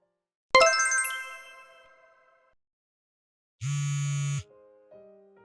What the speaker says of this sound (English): Hey, answer the phone.